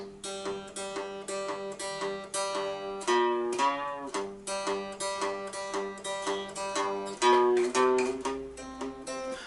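Twangy plucked chords on a three-string cigar box guitar, strummed in a steady rhythm, ringing close and clear with no talking.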